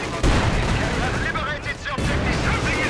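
Explosions and gunfire from a Company of Heroes 2 battle, an anti-tank grenade blast among them, as a loud, dense roar with a sharp onset and a second surge near the end. Faint commentary may sit underneath.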